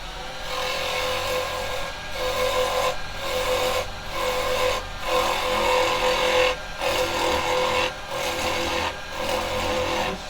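A carbide detail chisel cuts wood on a spinning lathe while turning an Easter cross, with repeated scraping, rasping passes of about a second each, broken by brief pauses, close and fairly loud.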